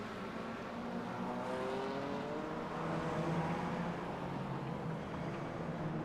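Race car engine in the iRacing sim racing game, a steady droning hum with shifting pitch as the car gets going again, continuous and moderately loud with no talk.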